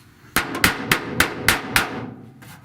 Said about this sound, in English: I did want to just hammer this out some and get it looking a little better